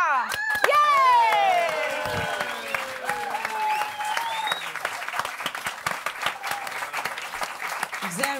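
A TV studio audience on a German late-night show applauds and cheers as a band is welcomed, a dense, steady wash of clapping that stays loud throughout, with a host's voice and musical tones sounding over it near the start.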